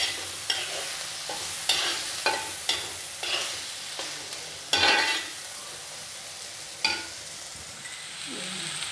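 Tomatoes and onions frying in a pan for fish curry, stirred with a utensil in regular scraping strokes over a steady sizzle, close and fairly loud, with no voices.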